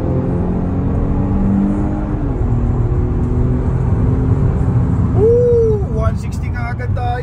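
A 2019 Kia Stinger GT accelerates on the road, its engine a steady loud drone with rising tones heard from inside the cabin, and a short voice near the end.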